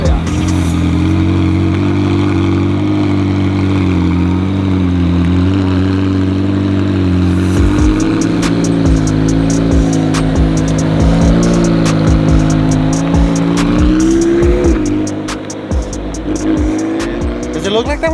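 McLaren 720S on Novitec springs pulls past, its engine a steady drone that swells and shifts as it drives, with a brief tire chirp near the end and voices talking over it.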